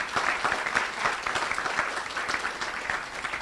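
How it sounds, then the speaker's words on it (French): Steady applause from a seated audience at a round-table discussion on LGBT+ coming out and media visibility, a continuous wash of many hands clapping at moderate distance with no speech over it. "Bon, on peut applaudir, allez-y."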